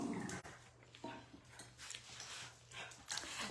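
Pet dogs nearby in a quiet room, giving soft, scattered whimpers and faint panting noises over a steady low hum, fairly faint throughout.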